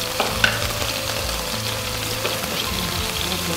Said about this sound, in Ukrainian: Обсмажуємо і знову перевертаємо на другу сторону.